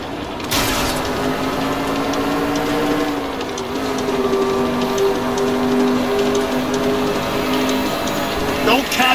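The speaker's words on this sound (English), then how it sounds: "Don't catch that train, Phelps." A train in the video game L.A. Noire rumbles and clanks continuously, with a sustained metallic tonal whine that bends slightly midway and sharp mechanical clatter near the start and end.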